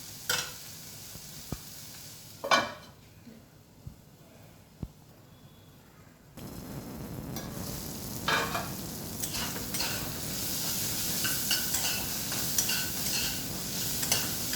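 Food frying slowly in a pan over low heat, a soft steady sizzle with a few sharp clinks of stirring early on, the sizzle growing louder and fuller partway through.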